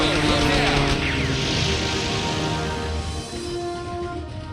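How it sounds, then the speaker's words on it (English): A Fokker Eindecker World War I fighter plane flies close by, its propeller engine droning loud and steady with a buzzing, harmonic roar that eases slightly toward the end. "The Fokker-Eindecker was the world's first purpose-built fighter aircraft"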